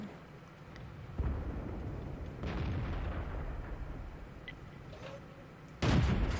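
Tank cannon fire in World of Tanks: a few heavy booming blasts, each followed by a long rumbling roar, the last one loudest and closest.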